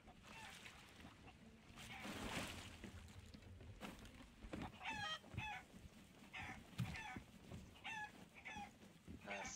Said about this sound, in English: I got me a chicken.